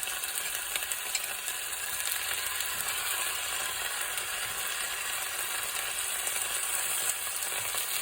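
Chicken pieces and garlic sizzling in a hot pan, a continuous, even crackle at moderate volume that runs without break, close to the pan and with no one talking.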